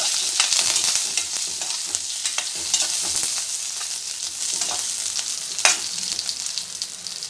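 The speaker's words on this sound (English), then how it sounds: "Fry small onions." Small onions frying in oil with curry leaves for a South Indian fish curry, a loud, continuous hissing sizzle close up, broken by occasional stirring scrapes and pops, with no one talking.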